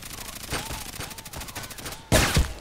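Repeated Glock 17 pistol shots in the Contract Wars shooter game, a steady volley of sharp reports through the first two seconds, then two louder, closer bangs near the end, with no talking.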